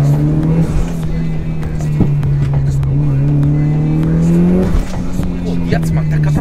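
A rally car engine roars close by, revving and accelerating with sharp exhaust popping bursts, loud and continuous throughout.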